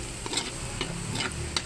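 Minced garlic, onion and ginger are stirred in sizzling cooking oil in a wok, a constant close fizz broken by light scraping clicks of the utensil at irregular moments.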